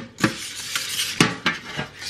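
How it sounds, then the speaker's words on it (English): Butter smeared by hand onto a baking tray for chocolate chip cookies gives close, scuffing rubbing strokes with a few sharper knocks against the metal, repeating irregularly and heard alone. "literally I'm rubbing it on the tray."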